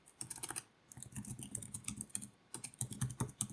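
Rapid computer keyboard typing with uneven bursts of clicking keystrokes, close and clear, pausing briefly midway before resuming; no voices.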